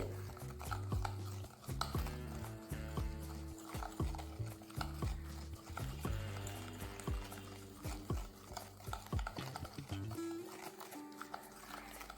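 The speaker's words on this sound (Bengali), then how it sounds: "এইভাবে ফেটিয়ে নিতে হবে চিনি আর ডিমটাকে ভালো করে একটু মিশিয়ে নিতে হবে" Sugar and eggs for cake batter are whisked in a bowl, giving rhythmic tapping and stirring strokes. Steady tonal background music plays underneath.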